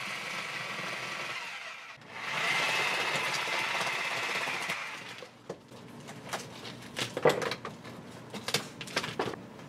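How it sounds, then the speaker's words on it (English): A Sawzall reciprocating saw cuts a larger hole in a basement wall holding a yellow jacket nest, with a buzzing burst for a few seconds followed by scattered knocks and clatter. "I had to take my sawzall and then cut a little bit larger of a hole"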